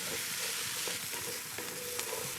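Halved, stemmed mushrooms sizzle and fry in a stew pot while being stirred, a steady soft crackle with occasional scrape of a utensil, close and without talk.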